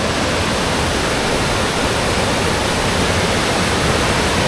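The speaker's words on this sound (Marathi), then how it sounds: "तुम्ही बघू शकता काय फोर्सनी पाणी चाललं" A powerful, continuous roar of rushing water from Kadape Kondi waterfall in Raigad, India, fills everything, dense and unbroken with no voices.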